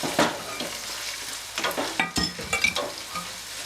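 Caponata vegetables sautéing in a pan, with a steady sizzle broken by a run of scraping stirs and clattering spoon strokes against the metal in the second half.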